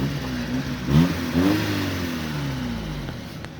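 Car engine revved up to roughly 3000 rpm, a close medium-loud rise in pitch that holds briefly, then settles back down.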